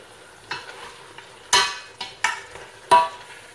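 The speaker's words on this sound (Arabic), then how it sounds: "كيتقلى ليا داك الدجاج" Chicken searing in a pan over high heat while it is stirred. Short, separate scraping and sizzling bursts recur at irregular intervals, close up, with a faint steady hiss beneath them.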